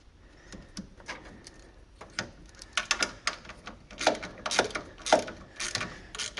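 Ratchet bolting an oil catch can to a radiator mount in a 2JZ-swapped 240SX drift car: irregular clusters of quick metallic clicks, close and moderately loud, with pauses between strokes and no talk.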